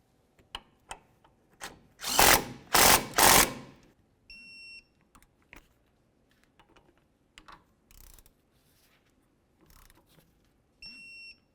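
A power tool drives in the front brake caliper bracket bolts on a 2002-2006 Honda CR-V in three loud, close bursts, with faint clicks, taps and a few high electronic beeps in the quieter stretches.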